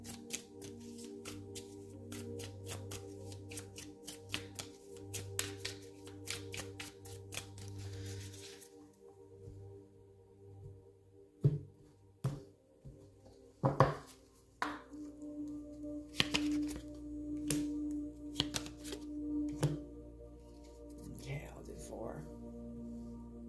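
Tarot cards shuffled by hand during a reading, a run of quick crisp riffles and soft slaps in the first few seconds, followed by scattered taps and card handling under a low hum, with a voice talking throughout.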